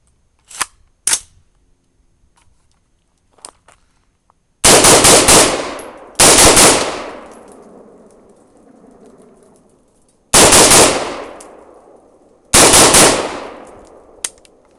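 An Adams Arms piston-driven AR-15 rifle firing outdoors: a couple of faint early pops, then four loud, sharp shots spaced a second or more apart, each ringing out with a long echoing tail.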